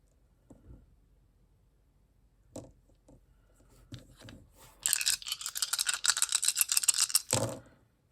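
Dice rolled for a cross-stitch project pick give a few small knocks, then a loud, sustained clattering rattle for about two and a half seconds, close by with no talking.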